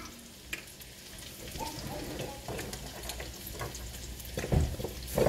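Garlic and green onions fry in a pot for a Creole sausage and okra dish, a moderate sizzle with scattered crackles and a few stirring knocks, louder toward the end.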